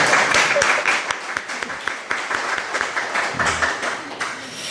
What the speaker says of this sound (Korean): 우리 반주하신 분들을 위해서 다시 한번 박수를 한번 해주세요.